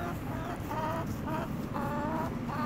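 Chickens cluck in short repeated bursts over steady outdoor background noise, close and moderately loud, with no talking.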